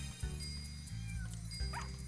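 A cartoon cat meows in the video game Doggie Dash, short mewing calls over a steady looping game music bed.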